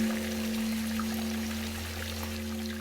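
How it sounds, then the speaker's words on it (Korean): Clear spring water trickles off a bamboo board into a large basin carved from rock, a soft, steady pour running continuously beneath a low tonal hum. "맑은 약수가 대나무 판을 타고 바위를 파서 만든 커다란 수조로 졸졸 떨어지고 있다"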